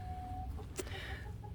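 An elderly hen clucks inside a backyard chicken coop, a single soft, brief cluck heard faintly over low background hum.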